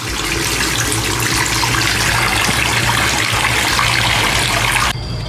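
Loud, steady rush of water running through a newly connected garden hose tap on an apartment, a continuous hiss that cuts off abruptly near the end.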